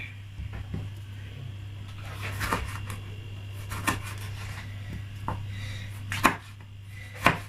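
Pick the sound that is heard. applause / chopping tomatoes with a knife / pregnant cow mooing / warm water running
chopping tomatoes with a knife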